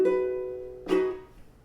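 A ukulele chord strummed twice, the first ringing out and slowly fading, then a second brighter strum with a crisp attack that decays quickly, close and clear with no voices.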